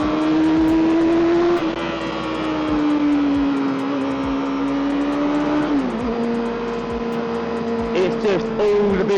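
A Kawasaki ZXR400 motorcycle engine pulls hard and steady after a downshift, its tone climbing, dipping around a gear change and climbing again, loud and close throughout.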